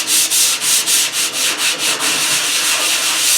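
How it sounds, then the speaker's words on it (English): Sandpaper rubbed by hand over rusty metal on a Farmall H tractor, a steady series of about a dozen rhythmic back-and-forth scratching strokes, close and fairly loud, with no talking. "get the hard rust off, and then taking the sandpaper"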